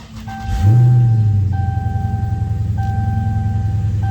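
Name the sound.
convertible car engine and exhaust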